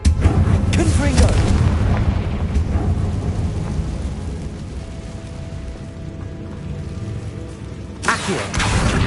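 Confringo spell explosion in the Hogwarts Legacy video game on PS5: a loud, booming blast rolls into a long crackling, rain-like hiss of debris, with a second burst near the end.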